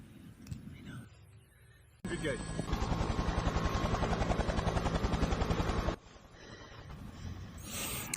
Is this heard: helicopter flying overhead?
yes